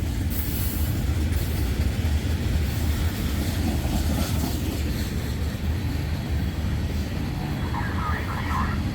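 A heavy freight train with locomotives, some of them shut down and hauled, rumbles past steadily, a dense low roar with faint metallic squeals and rattles near the end.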